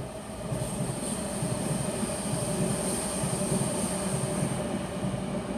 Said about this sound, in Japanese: あ、今電車来た。